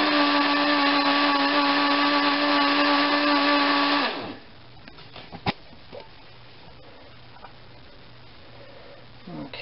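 An electric blender whirs steadily and loudly while mixing béarnaise sauce, a sustained motor drone that stops abruptly after about four seconds and leaves near silence with faint kitchen clinks.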